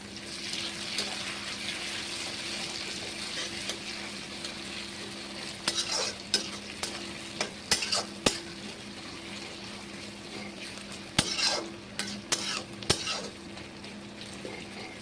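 Chopped tomatoes frying in a pan for chicken keema, a soft steady sizzle with a low hum beneath and scattered sharp clinks and scrapes of stirring utensils against the pan, no talk.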